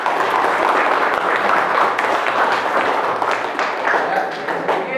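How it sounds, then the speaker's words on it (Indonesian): A school class of seventh-grade students claps for a presenting group, a dense continuous burst of many hands applauding together in the room for the full stretch. "Tepuk tangan semuanya."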